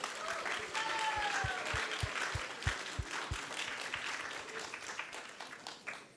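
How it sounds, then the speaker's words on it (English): An audience gives a round of applause at a Sunday Feast gathering, a faint, steady wash of clapping with some low thumps heard in the distance. "So we can give a round of applause for him."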